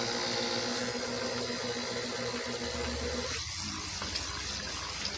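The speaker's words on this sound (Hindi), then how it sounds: "अभी देखते हैं कि मोटर पानी खींचता है क्या नहीं।" A small electric motor pump drawing water for a drip irrigation setup hums steadily alongside rushing, gurgling water flow, close and continuous with a shift in tone partway through; no one speaks.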